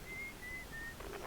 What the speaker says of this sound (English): there was a guy whistling on this planet